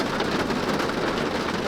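Steady rain pours down as a dense, continuous hiss with no break, close and fairly loud, with no voices over it.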